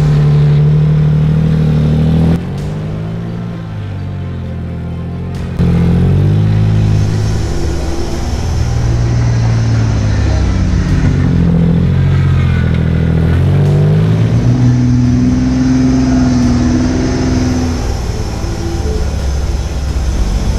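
An off-road vehicle climbs rocks on Bobs Hill, its engine loud and close, revving and labouring through changing pitch, with a brief drop in power and clattering from the drivetrain.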